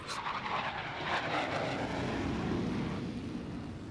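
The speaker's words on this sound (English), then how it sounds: "the skies over Lemoore echo with the deafening roar of FA-18 jet fighters" Boeing FA-18 Hornet jet fighters roar over Lemoore, a broad, loud, sustained jet rumble and hiss that swells and slowly fades as the aircraft passes, with no voices.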